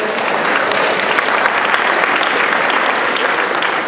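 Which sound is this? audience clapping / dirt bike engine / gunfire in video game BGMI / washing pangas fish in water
audience clapping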